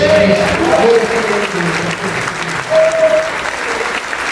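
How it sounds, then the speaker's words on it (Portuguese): Congregation applauding during a church anniversary service, a loud, steady wash of clapping with voices calling out and a sustained tone running underneath. "Levante a sua mão, aplauda o nome do Senhor Jesus Cristo"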